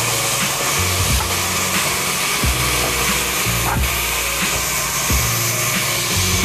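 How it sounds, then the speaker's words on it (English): A sawmill wood-processing machine's motor runs steadily at close range, a continuous mechanical drone with low rumbling pulses and intermittent knocks, no voices present. "There is a motor working over there."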